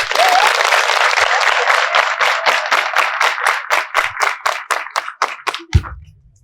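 An audience in a school setting applauds for the market leader, dense clapping that starts strong and then breaks into separate rhythmic bursts that thin out toward the end, loud and close.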